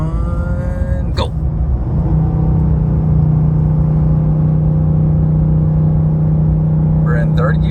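Inside a Ford F150 with the 5.0L Coyote V8, the engine drones loud and steady under heavy load while towing at maximum up a 6% grade, a sustained low rumble with a brief rise early on and a voice speaking near the end.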